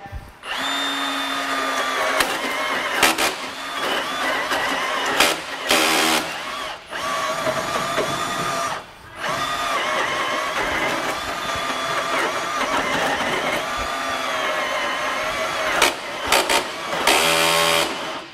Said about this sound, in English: So you can see every time you heard that vibration, that's a clutch kicking in.